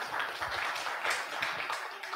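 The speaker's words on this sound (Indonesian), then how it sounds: "Baik, beri tepuk tangan yang meriah." An audience applauding at a university public lecture as the guest speaker is thanked: a steady, moderately loud wash of many hands clapping that fills the room without pause.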